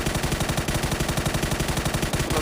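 Rapid automatic gunfire crackles in the battle royale game PUBG, a dense unbroken burst of close, loud shots with a fast, even rhythm.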